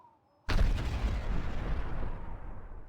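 A single sudden, loud grenade blast in a video game erupts after near silence, then rolls into a long, decaying rumble that fades gradually.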